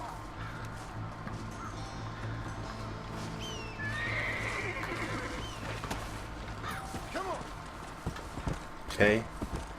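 Horse neighing and clip-clopping hooves in Red Dead Redemption, a shrill whinny rising mid-clip and a sharper burst near the end over steady game ambience.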